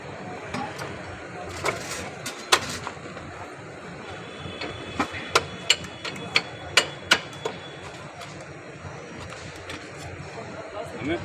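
A drum plate part is lightly hammered to knock loose carbon during a tube-tyre repair: a series of sharp, irregular metallic taps, mostly clustered in the middle, rings out over a steady workshop background hiss.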